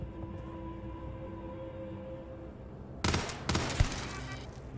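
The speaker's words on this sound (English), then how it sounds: "Well, that's just a turret." Burst of turret gunfire in the space game Starfield, a dense crackling volley of rapid shots that erupts partway through after a quiet ambient hum, loud and close with a few sharper bangs near the end.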